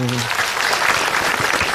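A crowd bursts into loud, dense clapping that fills the space, with a brief voice at the very start.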